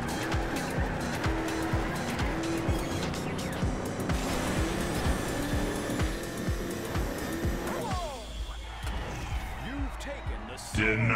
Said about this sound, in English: That's an incredible drift there.